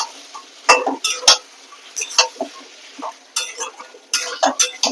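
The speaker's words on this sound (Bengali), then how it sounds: "চিকেনের মধ্যে এবারে আলুটাকেও দিয়ে দেবো আলুটাকে দিয়েও ওখানে কষিয়ে নেবো" Potatoes being sautéed with chicken in a pan, sharp clinks and scrapes of a utensil against the metal in irregular bursts over a soft sizzle, close and clear, no talking.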